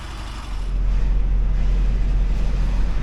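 A Ford Transit van at a scrap business starts moving and drives off, its steady low engine rumble swelling after the first half-second and holding close and constant, with no talking.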